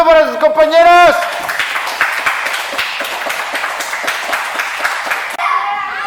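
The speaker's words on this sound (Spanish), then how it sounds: "Un aplauso para sus compañeros." Group of children and adults clapping together at an outdoor campfire gathering, a steady mass of claps lasting several seconds, with voices speaking over the start and end.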